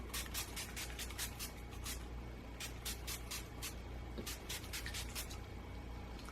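NYX Matte Finish setting spray pumped onto a face during a makeup routine, a rapid series of short misting hisses in two bursts with a brief pause between, close and fairly soft.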